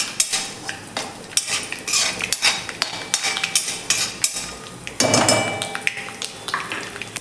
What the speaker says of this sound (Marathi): हे छान असं तेलावरती 1 मिनिटभर परतून झालेलं आहे